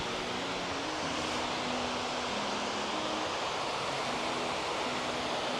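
Thararak waterfall at Ban Chedi Kho, Phop Phra, Tak, gives a steady broadband rush of falling water, constant and enveloping, with no voices.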